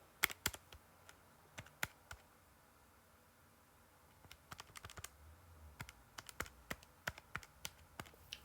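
Keys tapped in short, separate clicks while numbers are entered into a calculator, quiet and close, with uneven pauses between the bursts of key presses.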